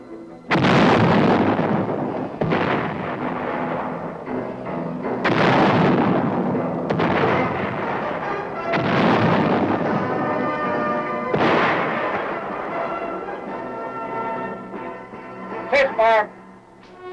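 Tank cannon fire during crew gunnery training, several heavy booming shots spaced a few seconds apart, loud and close, with a voice narrating throughout.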